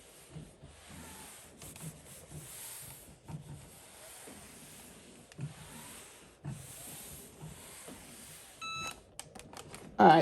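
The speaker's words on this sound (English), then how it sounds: "It beeped. We're done." A heat press used to apply vinyl to a T-shirt gives short electronic beeps near the end, after stretches of soft rubbing and handling noise close by.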